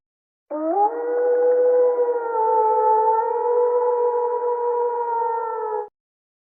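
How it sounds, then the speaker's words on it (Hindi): Dogs howl from far off in the night, a horror-story sound effect: overlapping long, wavering wails hold steady for about five seconds, mournful and sustained, with no voices. "दूर कहीं से कुत्तों के रोने की आवाज आ रही है"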